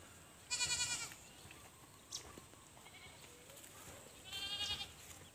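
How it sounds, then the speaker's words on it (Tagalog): Boer goats on a farm bleat in two loud, wavering bursts separated by a quieter stretch with faint background noise and one brief higher call in between. "Doon yan sila sa taas, yung mga kambing natin."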